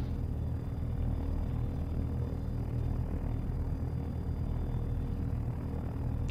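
A helicopter flies low over a tree-filled valley in the flight-simulation video game Take on Helicopters, giving a steady, loud rotor and engine rumble that runs unbroken through the whole stretch with no talk.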